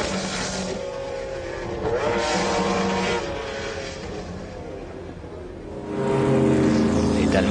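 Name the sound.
McLaren race cars at 1995 24 Hours of Le Mans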